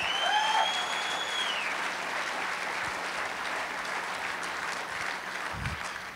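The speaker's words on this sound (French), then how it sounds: "Applaudissez un peu plus fort." Steady applause from a crowd fills the whole stretch, dense clapping at a constant level with no voices rising above it.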